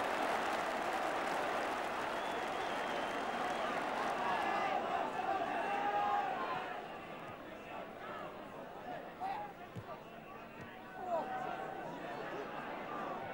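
A football crowd in the stands applauds and murmurs from a distance, the sound easing after a few seconds, while a match commentator talks over it.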